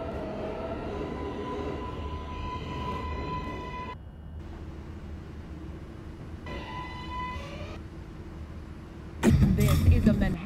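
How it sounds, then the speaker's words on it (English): An R142A subway train on the 4 local stands at Saratoga Avenue station, its motors and ventilation humming steadily with chime-like tones, before a loud burst of rumbling noise near the end. "This is a Manhattan-bound 4 local train."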